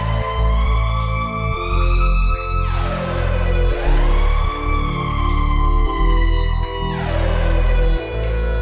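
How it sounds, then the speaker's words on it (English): Swelling siren-like wails rise and fall three times over a dense, sustained musical bed with deep bass pulses, loud and atmospheric, from a track. "The sirens, it's this haunting, atmospheric, just huge ambience"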